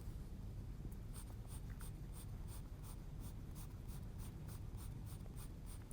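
Soft pastel stroked across textured, toothy art paper, a close, dry scratching with a quick run of rhythmic strokes through the middle, over a steady low background hum and no speech.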